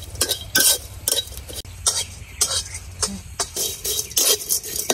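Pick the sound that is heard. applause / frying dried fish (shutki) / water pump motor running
frying dried fish (shutki)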